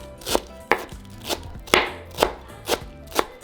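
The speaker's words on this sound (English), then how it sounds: "So I'm going to start with my cilantro. I'm just going to chop it." Knife chopping fresh cilantro with its stems on a cutting board, seven crisp close thuds at a slightly uneven rhythm, with no voices.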